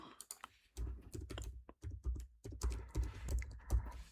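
Keys clatter on a computer keyboard in quick irregular bursts, close and fairly loud, with brief pauses between runs of typing and no voices.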